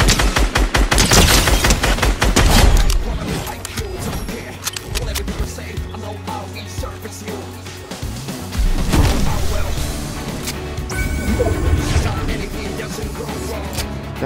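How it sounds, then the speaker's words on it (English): Rapid gunfire bursts in Fortnite, dense and loud at the start, then repeated shots mixed with game music and effects. "Someone just shot me from in that building."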